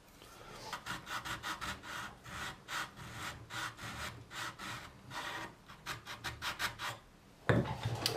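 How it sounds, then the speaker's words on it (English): A metal file rasps back and forth through the string channels of a guitar string tree, a close, steady series of short gritty strokes in an even rhythm, with a sharper knock near the end. "I thought this was a good chance to deburr those channels"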